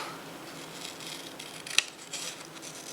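Scissors cut paper into a heart shape for a Valentine-themed journal ephemera piece, with one sharp close snip standing out against faint soft rustling.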